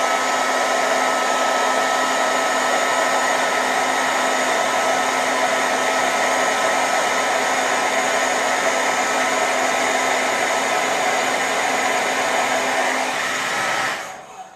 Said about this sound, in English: I'm gonna use my hair dryer on high and hot